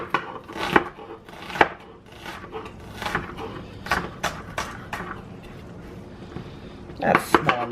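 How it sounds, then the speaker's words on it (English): A knife chops vegetables such as tomatoes and lettuce on a cutting board for tacos, giving a run of close, crisp knocks at an uneven rhythm, with a brief quicker burst near the end. "Just slice that right up."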